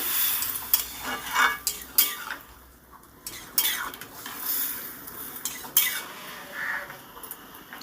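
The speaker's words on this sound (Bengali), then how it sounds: "এবার ডালটাকে আমি ফোড়নের মধ্যে দিয়ে দিলাম ভালো করে একটু নেড়ে চেড়ে দেবো" A utensil scraping and clinking in a pan as dal is stirred into a hot tempering of spices, in irregular strokes with faint sizzling beneath.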